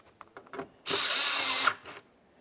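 A cordless power tool drives a mounting bolt while a door handle is fitted on a 1999-2003 Toyota Solara, giving one burst of buzzing whir that lasts under a second. Light clicks and handling taps come before and after it.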